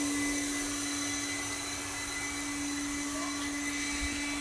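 A small 12-volt high-speed fan powered from a solar panel box setup runs with a loud, steady whirring drone and a constant tonal whine, unbroken throughout and with no talk.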